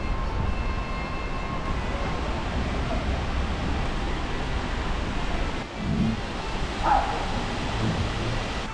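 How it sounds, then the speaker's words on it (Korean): Water of the Hongjecheon stream in Seoul flows near a waterfall on a cold day, heard as a steady, moderate broadband rush throughout, with a few faint incidental sounds mixed in. "지금 벌써 물소리가 좀 어디서 지글지글지글 하고 들리기 시작했는데요"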